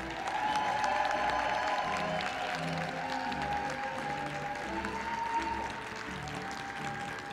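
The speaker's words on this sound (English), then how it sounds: "Please give a round of applause for our Ivy Tech 2021 graduates." Applause from graduates' families and guests at an Ivy Tech 2021 School of Arts, Sciences, and Education commencement ceremony, a steady wash of clapping from a large crowd that holds throughout and eases slightly near the end.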